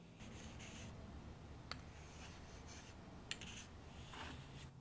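A Lie-Nielsen low angle jack plane slicing a thin shaving from wood produces soft, faint swishing strokes, with a couple of light clicks in a quiet room.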